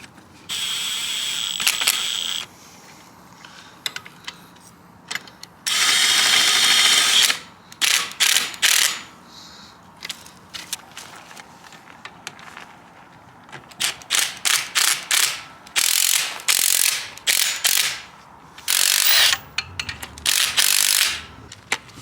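A 21 millimeter socket on a ratchet wrench loosens a bolt while lowering springs are removed from a Ford Mustang GT350, with close, bursty clicking runs of the pawl separated by short pauses, sounding alone without talk.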